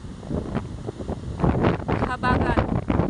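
Gusty southwest monsoon wind after a typhoon roars through bamboo and trees, buffeting the microphone, while someone speaks over it in the second half.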